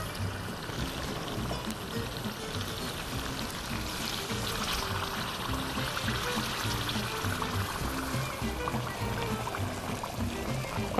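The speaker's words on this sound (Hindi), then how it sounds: "अब डालेंगे इसमें हम गर्म पानी।" Hot water pours steadily into a pot of fish broth for a fish curry, a continuous splashing, gurgling stream close by that lasts throughout at even loudness.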